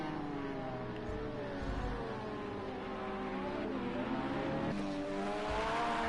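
Race cars in an endurance racing video game, LMP1 prototypes among the traffic, droning steadily along the track with engine pitches rising and shifting as they pass, a constant layered roar with no talk.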